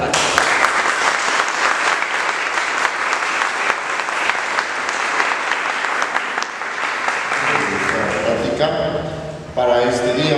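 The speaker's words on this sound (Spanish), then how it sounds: "le damos un fuerte aplauso al padre." An audience in Santo Domingo, Oaxaca, applauds to welcome a priest at a Marian conference. The clapping is dense and steady, then thins near the end as a voice comes in.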